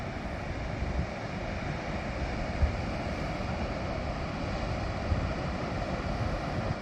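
Waves wash onto a coastal beach near the Smith River and Brookings, Oregon, in a steady broad roar of surf mixed with wind buffeting the microphone, with a few soft thumps and no voices.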